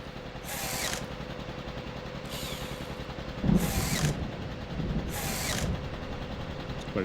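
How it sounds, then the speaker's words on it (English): Powered screwdriver driving screws while fitting windows and doors, four whirring bursts of about a second each, separated by short pauses, with muffled handling noise between and no talk. "I do like my powered screwdriver straight in."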